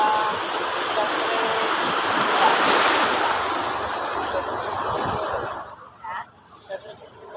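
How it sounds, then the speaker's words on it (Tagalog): Sea waves wash around a small boat, making a broad, rushing surge that fills most of the stretch before easing and fading toward the end. "May alon."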